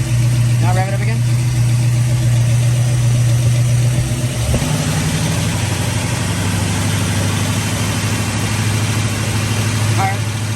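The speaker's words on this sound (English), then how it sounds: "Now rev it up again." A car engine with noisy lifters idles loudly and close, then rises in a sustained rev that holds at a higher pitch, while people talk briefly over it.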